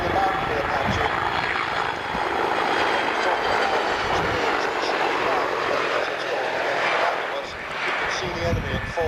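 Apache attack helicopter flying at the 1993 Fairford airshow, a loud continuous rotor and engine roar that swells and fades slightly, with a voice talking over it.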